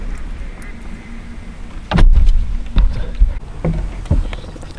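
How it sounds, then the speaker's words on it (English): A wood duck calls in a few short, distinct bursts from a marsh during a duck hunt near a canoe, with a low background rumble beneath. "Nice wood duck."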